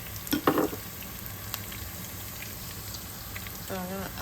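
Onion dropped into hot oil for a Nigerian grandma's yam dish, a soft continuous sizzle with a brief burst of clattering as it goes in, faint and fairly distant.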